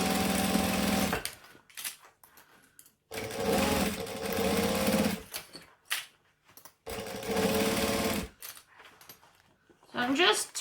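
A sewing machine runs in three long bursts at a 2.5 stitch length along a seam of about 3/8 inch, each a fast even whirring rattle, with quiet handling noises in the gaps.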